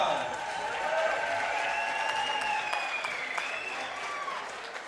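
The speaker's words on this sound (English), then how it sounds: "let's give these two competitors one more round of applause" Audience applause at an amateur fight club event in Rancho Cucamonga, California, steady clapping and cheering for two competitors after a bout, with an announcer's voice carrying over the crowd.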